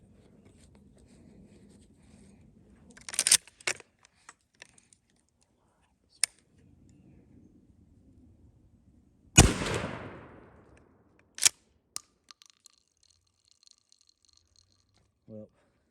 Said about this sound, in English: I'm gonna shoot the 20 gauge on the left.